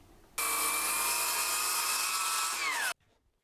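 A power saw cuts steadily through wood along a guide for about two and a half seconds, a loud continuous whine that drops slightly in pitch as the cut finishes.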